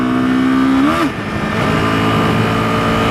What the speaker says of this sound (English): Let me twist the throttle here. That's wide open.